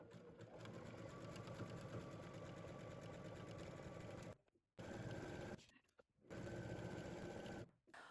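A home sewing machine running a narrow zigzag seam on a skirt, its fast mechanical whir and needle chatter steady and close, broken by short pauses near the end.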